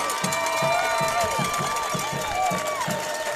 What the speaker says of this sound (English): you can hear that East Central crowd come alive